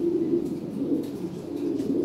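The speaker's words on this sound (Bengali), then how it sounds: "এগুলো টয় বিটের কবুতর" Lahori Sirazi pigeons coo in low, throaty, continuous murmurs, several birds close by and fairly loud.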